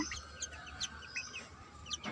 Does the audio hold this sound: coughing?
no